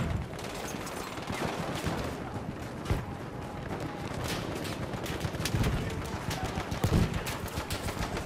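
Dense, continuous Battlefield 1 battlefield gunfire, with overlapping rifle and machine-gun shots and heavier booms filling the whole stretch, loud and busy without pause.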